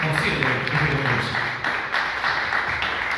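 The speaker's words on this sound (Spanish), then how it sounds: "un fuerte aplauso para usted" Sustained audience applause fills the hall at a provincial storytelling contest award ceremony, a dense steady wash of clapping from a crowd that carries on without a break.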